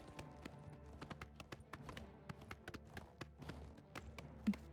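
Horse hooves clip-clopping in the video game Oblivion, a steady run of close, distinct hoof taps with no talking.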